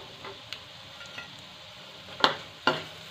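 A pea snack frying in oil gives a faint, low sizzle, with a few sharp scraping or tapping clicks near the end, close by and with no talk.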